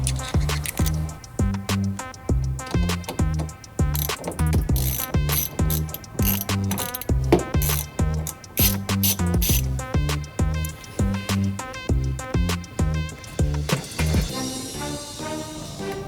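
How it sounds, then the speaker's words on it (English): A ratchet with an extension and a 10mm socket disconnecting a car battery: rapid, rhythmic pawl clicking in repeated bursts, close and crisp, continuing for about fourteen seconds before tapering off. "we're gonna need the ratchet, the extension will definitely help, and a 10mm socket"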